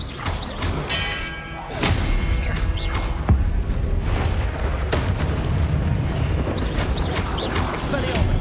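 Spell casting in the Hogwarts Legacy video game during combat, dense booming magical impacts and bursts layered over a constant game soundtrack, with repeated sharp hits and low rumbles throughout.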